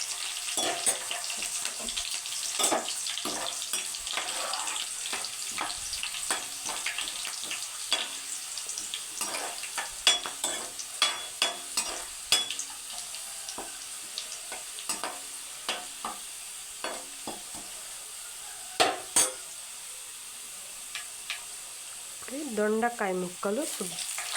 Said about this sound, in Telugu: ఉల్లిపాయలను, ఈ తాలింపుని, మనం వేసిన ఎండుమిర్చిని, వెల్లుల్లి రబ్బని మొత్తం వేపుకోవాలి